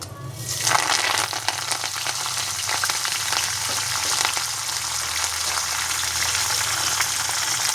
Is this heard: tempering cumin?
yes